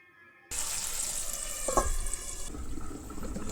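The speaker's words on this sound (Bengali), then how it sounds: "এরপরে কিন্তু দিয়ে দেবো জল" Water pours from a tap into a pan of frying potatoes, a steady rushing splash that begins abruptly and continues with a brief louder surge partway through, close and alone.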